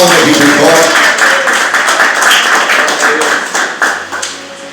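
A church congregation claps rhythmically together, loud and sustained, with voices mixed in, fading toward the end.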